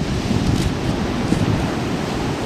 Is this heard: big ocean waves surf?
yes